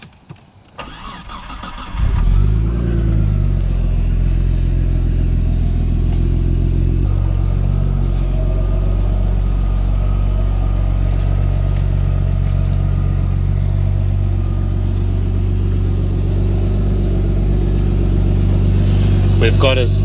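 A Nissan R33 Skyline engine cranks and fires, then settles into a loud, steady, rumbling idle up close. A faint metallic exhaust rattle sits underneath the rumble.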